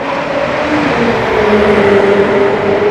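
A sports car engine revs hard through a titanium exhaust, a loud, steady mechanical roar with rising and falling pitch sweeps, close to the microphone and with no voices over it.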